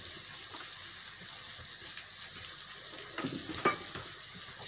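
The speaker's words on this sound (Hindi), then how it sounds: "अब इसे अच्छी तरह भून लें।" Spices for a black chickpea curry fry in a pan, giving a soft, steady sizzle with faint stirring scrapes and a couple of brief clinks near the end, heard alone at low volume.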